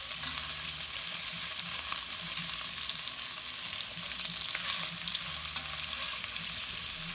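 Small chunks of bacon fry in a pot, a steady close sizzle and crackle with faint intermittent stirring scrapes; no talk.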